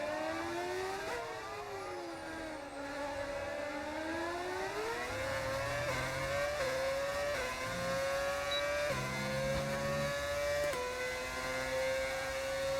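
A modded Formula 1 car engine in an F1 racing video game screams loudly and continuously, its pitch climbing through repeated upshifts with short drops between gears, alone with no talk.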